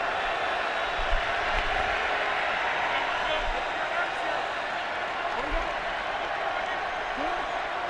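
A stadium crowd in Nashville at a Colts–Titans NFL game keeps up a steady, broad roar of noise, with a commentator talking over it.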